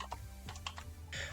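Code being typed on a computer keyboard, a few quick close keystrokes in short irregular bursts at low level with no talk.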